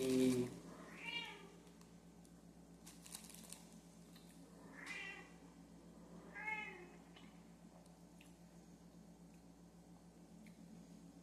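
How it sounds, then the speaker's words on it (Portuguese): A house cat meows several times indoors, the calls spaced apart and fairly faint, with quiet background noise in between. "Lá vem minha gata."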